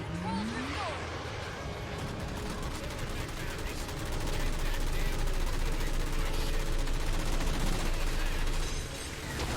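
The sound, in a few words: mech cannon firing in video game Halo 4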